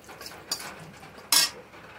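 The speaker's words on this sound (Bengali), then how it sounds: "একটু নাড়িয়ে নিচ্ছি।" Whole spices (cinnamon, cloves, cardamom and bay leaf) stirred in hot oil in a wok, with two quick metallic scrapes of the spoon against the pan over a quiet background.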